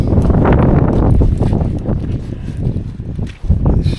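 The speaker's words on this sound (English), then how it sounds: "You probably can't hear me because of the wind" Strong gusting wind buffets the microphone at an open hilltop viewpoint at Queens View near The Whangie, a loud, rough roar that swells and dips throughout with no clear talk.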